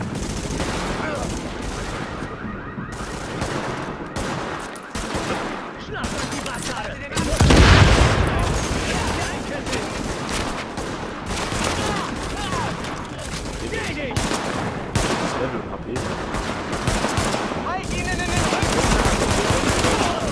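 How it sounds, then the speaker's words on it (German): Light-weapons fire rages in The Division, with continuous machine-gun volleys and single shots plus a heavier boom near the middle, mixed with game voices and combat noise throughout. "Beschuss durch leichte Waffen. Unter Beschuss."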